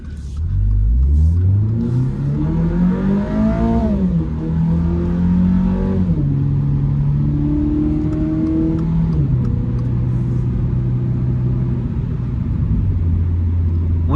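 A 2024 Toyota GR86 with an automatic transmission accelerates hard, its engine note rising loud and close through several gear shifts, each climb dropping back before pulling up again, with no talking over it.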